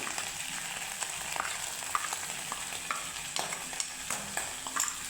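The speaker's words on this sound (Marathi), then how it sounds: "धने पावडर टाकून झाल्यानंतर याला व्यवस्थित तेलामध्ये मिक्स" Chicken masala with onion paste and ginger garlic paste frying in oil as coriander powder is stirred in, a steady quiet sizzle with repeated soft scraping and clicking of a spoon.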